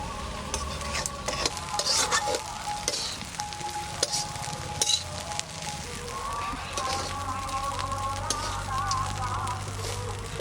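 Food seasoned with salt is stirred in a pan over a fire, with repeated scrapes and clinks over a continuous sizzle, and a voice is heard faintly under it.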